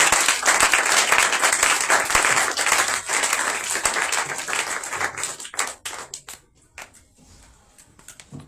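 A church congregation at a Shavuot service claps and applauds loudly for several seconds, then the applause thins into scattered individual claps and fades.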